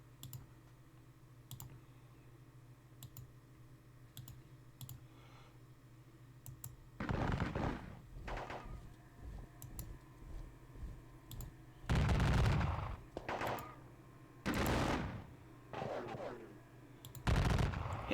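Musket volleys from regiments in a Gettysburg wargame sound as a series of loud, crackling bursts, several heavy clusters spaced a few seconds apart, over a low steady hum with faint clicks in the quieter stretches.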